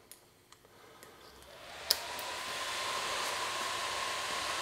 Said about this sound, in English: We got all our fans are running.